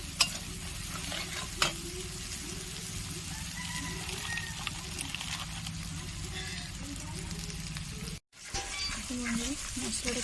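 Masala with Kashmiri chili powder sautés for a Bengali mixed vegetable curry, making a continuous soft sizzle with stirring scrapes and a brief break near the end, while someone talks over it.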